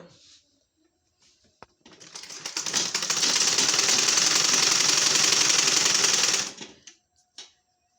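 A home sewing machine stitches a petticoat in one fast, loud, rattling run of about four seconds that starts up and winds down, with a few faint clicks before and after.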